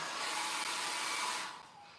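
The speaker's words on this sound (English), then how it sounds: "Always turn your hairdryer on, like Gary Lowe said in one of his demos" A hair dryer blows with a steady, loud rushing hiss, then drops off and softens near the end as it is switched down.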